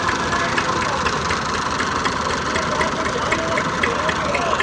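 A tractor engine runs steadily, deeply stuck in a muddy pit on a village track, with a continuous mid-to-low rumble and faint knocking throughout, loud and close, with the sense of voices around it.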